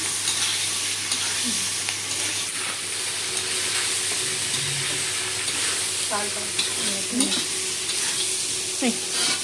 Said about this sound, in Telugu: చికెన్ ఫ్రై అయిపోతుంది